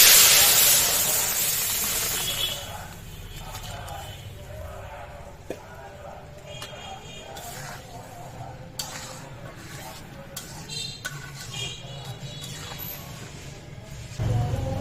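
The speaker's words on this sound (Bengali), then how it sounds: "আমার পেঁয়াজ রসুন মরিচ সব সুন্দরভাবে ভাজা হয়ে গেছে। এবার এর উপরে দিয়ে দিব ডাল।" Lentils are poured onto fried onion, garlic and chili, giving a loud initial sizzling hiss that fades into quieter crackling with a few small clicks.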